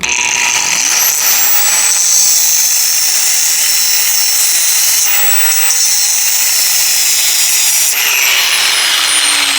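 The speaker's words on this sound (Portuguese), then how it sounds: "eu vou passar a esmeriladeira aqui pra abrir um pouco mais de espaço" An angle grinder cuts into the metal frame of a motorcycle built with a washing-machine motor. It sounds as a loud, steady, high-pitched whine with a rising start, held for about ten seconds with no talking.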